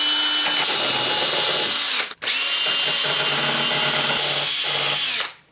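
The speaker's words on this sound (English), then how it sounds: "I'm gonna use this to sort of clean up the edges" Power drill spinning a coarse grinding wheel to clean up rough edges during a 2000 Honda Odyssey oil pan drain plug repair: a loud, close, high whine of grinding that cuts out briefly and resumes until it stops.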